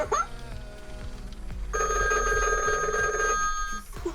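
A Disney Mickey Mouse limited edition animated toy telephone rings after its button is pressed, a bright electronic bell tone sounding for about two seconds over faint mechanical background noise, fairly close.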